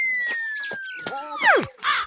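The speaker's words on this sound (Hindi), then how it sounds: "वो देखो चील" A kite cries out in a shrill whistling call that slides slowly downward, then swoops sharply lower, amid short bursts of other sound effects and brief vocal noises.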